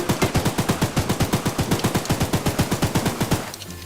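Rapid automatic gunfire in a video game, a steady stream of loud, evenly spaced shots for over three seconds before stopping abruptly.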